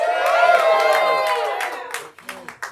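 A theater audience at a comedy show whoops and cheers in a loud rising swell, then the cheers fade into a few scattered, separate claps near the end.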